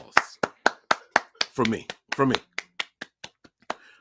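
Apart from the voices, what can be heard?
applause, hand clapping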